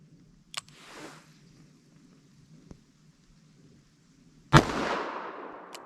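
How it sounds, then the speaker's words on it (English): Two sharp single shots from a .357 Magnum revolver firing Winchester Silvertip rounds single action outdoors, a faint crack early on, then a loud report with a long rolling echo. "I'm going to fire single action over the chronograph"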